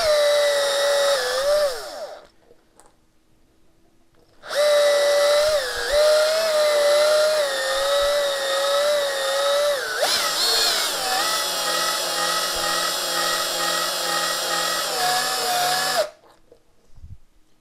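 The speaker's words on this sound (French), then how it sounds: "je vais venir fraiser l'intérieur du pneu pour faire une surface bien propre" A rotary reamer grinds the inside of a punctured motorcycle tyre: a loud, high whining power-tool drone runs in two long bursts, briefly stopping and restarting, with pitch shifting under load before it cuts off.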